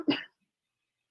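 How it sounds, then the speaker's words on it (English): A single short cough from a person at a live-streamed community show, close and fairly loud, followed by silence. "Now I got to cough when I come on the show."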